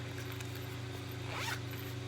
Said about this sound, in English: it has a little zipper